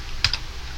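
A single sharp computer keyboard keystroke while copying text, close and brief, with a quieter click just after, over a steady low background hum and no talking.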